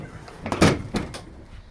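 The tailgate of a 2016 Ford F-250 Super Duty XLT pickup gives a couple of quick, close mechanical clunks and thumps as it is worked.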